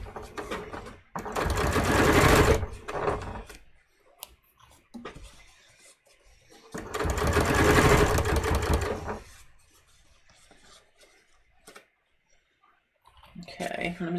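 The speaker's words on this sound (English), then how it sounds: "I'm just going to stitch really close to the fold." Sewing machine stitching close to the fold of a fly shield on a cut-on zipper fly, two loud bursts of rapid needle chatter separated by quiet pauses and faint handling clicks, with a third run starting at the end.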